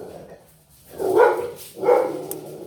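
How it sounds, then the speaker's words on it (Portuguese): A female dog gives two distinct barks roughly a second apart, fairly close and moderately loud, with quiet room tone between them and no talking. "A minha cadela, né?"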